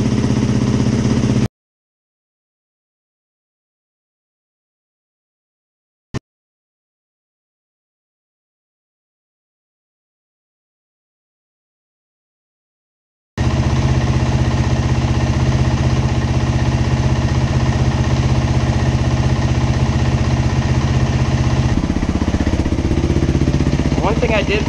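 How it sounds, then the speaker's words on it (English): A 2021 Beta 430 RR-S dirt bike engine idles steadily and close up after a long stretch of silence, with a brief click in the quiet part and the note shifting slightly toward the end. "Good sounding bike."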